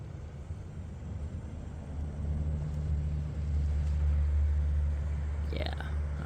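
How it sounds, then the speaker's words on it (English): A single car approaches and passes along a nearby road beside a roadside campsite on a hike north out of Erwin, Tennessee, a low rumbling that swells steadily louder over several seconds, with no talk. "Another car is coming."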